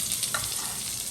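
Red onions sizzle and crackle steadily in a hot pan, a close, continuous frying hiss with a faint stir near the start and no one talking.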